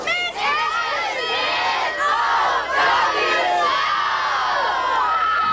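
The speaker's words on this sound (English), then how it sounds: "A snow cheer from these Cherokee County students." A crowd of Cherokee County students shouts a rhythmic snow cheer in unison during the March 1993 Atlanta blizzard, loud, excited group chanting with shouts and whoops blending together.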